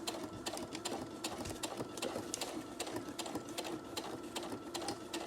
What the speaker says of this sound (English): you just go slowly and you stitch through. You stitch the binding down.